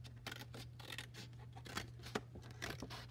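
Scissors snip repeatedly through the excess edges around a sublimation print on canvas, a steady series of close crisp cuts over a low constant hum.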